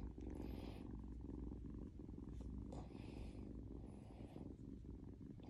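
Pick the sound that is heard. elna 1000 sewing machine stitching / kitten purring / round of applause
kitten purring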